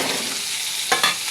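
Food fries in Fortune mustard oil in a pan, a bright sizzle running continuously with two short louder bursts of stirring near the end, heard close and alone.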